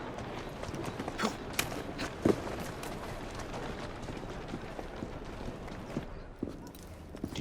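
Hooves clip-clop at a walking pace in Assassin's Creed Syndicate, moderately close, with scattered knocks and a busy ambient background.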